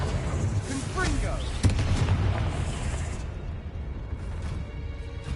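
A fire blast spell is cast in the video game Hogwarts Legacy, a sharp booming burst followed by a rumbling, crackling tail, with a voice speaking over it.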